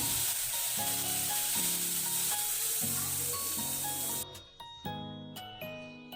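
Loud, steady sizzling of a ground paste in hot oil, with stirring noises and light clinks partway through, while music plays in the background.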